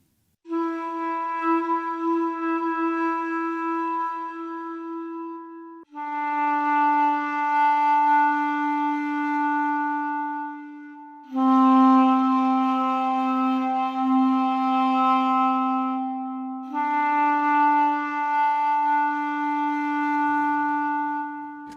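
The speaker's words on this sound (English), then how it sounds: "lovely, natural clarinet sound." A sampled clarinet melody plays alone in four long sustained notes, each held steadily with gentle vibrato, warm and clear with no voices.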